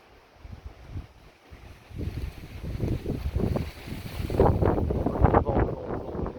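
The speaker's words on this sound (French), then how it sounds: "Le vent, doucement le vent." Wind gusts during a moderate summer thunderstorm buffet the microphone, starting faint and swelling into stronger, rougher rushes toward the end, with no voices.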